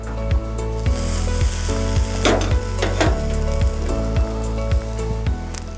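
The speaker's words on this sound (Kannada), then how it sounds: "ಒಗ್ಗರಣೆ ರೆಡಿ ಒಳ್ಳೆ ವಾಸನೆ ಬರ್ತಾ ಇದೆ ಈಗ ಇದು ಮೊಸರಲ್ಲಿ ಹಾಕೋಣ" Hot tempering sizzling as it is poured into curd, a close crackling fizz over a repeating low rhythmic tapping pattern, with no talk.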